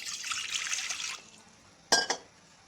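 Water poured into a bowl in a home kitchen, with a steady close trickle for about a second. A pause follows, then two brief clinks.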